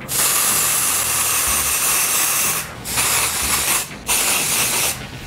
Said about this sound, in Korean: 볼륨 스프레이 같은 게 있어요